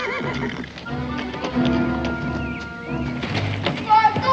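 A horse whinnies amid hoof clops and dull thumps, with commotion and other voices mixed in near the end.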